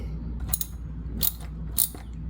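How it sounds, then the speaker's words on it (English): Ratcheting wrench tightening the VVT solenoid bolts on a 2011-17 Honda Odyssey during a gasket replacement, with three short clicking bursts spaced about half a second apart over a steady low engine-bay hum. "when you're ready, start using the wrench"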